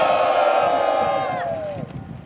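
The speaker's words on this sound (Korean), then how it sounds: "함성으로 시작하겠습니다." Protesters at a press conference outside the South Jeolla provincial office shout a sustained rally cry together; the loud chorus holds steady, then falls in pitch and trails off into murmuring.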